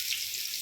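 Mustard seeds, garlic and ginger fry in hot oil with a steady, bright sizzle that holds evenly through a very short moment, with no voices.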